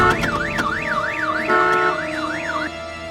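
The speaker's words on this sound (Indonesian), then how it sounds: "Begitu pintu dibuka, alarm berbunyi, lampu berkedip." A sedan's car alarm blaring in a film scene, a rising and falling electronic wail cycling steadily with extra tones layered in, loud and close, then dropping slightly in level near the end.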